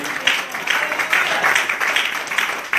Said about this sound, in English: Come on and give the Lord a clap offering in the name